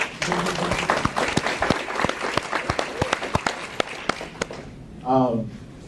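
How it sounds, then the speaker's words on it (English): Audience applause for Beverly and her staff at a CaroMont Health event, a steady patter of many hands clapping with sharp individual claps, ending as a voice speaks briefly near the close. "Y'all give them a round of applause, please"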